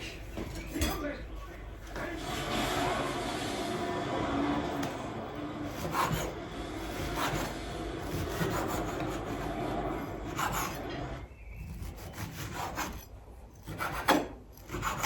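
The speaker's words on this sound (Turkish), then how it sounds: "İlk önce kadayıfımla başlıyorum. Ben şimdi keseceğim." Kadayif pastry dough is cut into small pieces, giving steady close rasping and scraping with light tapping against a surface, while a person talks over it.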